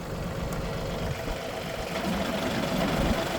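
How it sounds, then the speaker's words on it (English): A tractor engine runs at a low, steady idle with a rough, slightly knocking rumble, fairly close and without speech. "So we're going to fire the tractor up, lift this thing off the ground."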